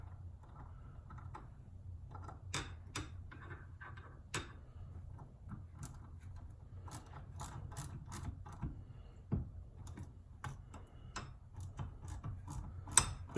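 A woodworking vise being tightened, its mechanism giving a series of light ratcheting clicks and ticks, irregular and close, over a low steady hum with no talk.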